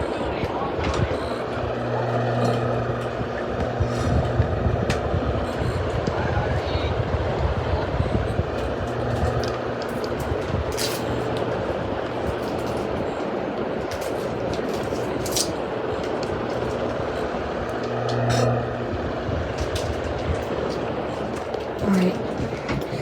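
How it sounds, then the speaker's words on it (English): A 52-inch Hampton Bay Carriage House ceiling fan runs with a device held close to its blades, giving a steady, loud, helicopter-like whooping thrum across the whole stretch, with occasional speech over it. "if I put like my iPad like near it, like at the very top of it, it like sounds like a helicopter"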